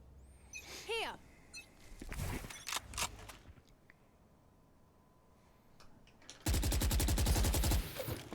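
Rapid automatic gunfire from a spray in Valorant, a tactical shooter, arriving as a loud sustained burst near the end after scattered shots and game effects.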